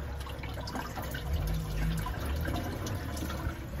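Water runs steadily from a reef tank overflow down through the drain plumbing into the sump, a continuous close rushing and gurgling wash with no talking.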